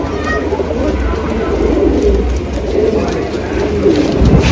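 Pigeons of many kinds coo steadily at a pigeon sale, a low continuous rumble of birds close by with a voice talking over them.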